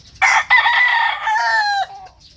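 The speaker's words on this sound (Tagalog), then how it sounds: "Tandang, nasa mga 7 to 8 months lang." A young rooster about 7 to 8 months old crows once, loud and close, a long strained call that trails off at the end, with no other sounds around it.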